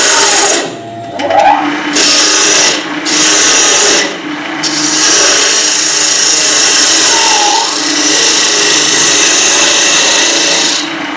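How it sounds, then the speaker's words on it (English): A bowl gouge cuts backwards across spinning wood on a lathe while turning a hat rim, giving a loud, continuous rough rasping scrape with a few short breaks as the tool lifts off. "I'm going to use the bowl gouge again, and I'm going to cut backwards and bring it up that way"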